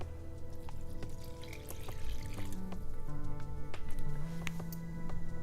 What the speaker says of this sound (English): And then I'm going to add my warm water.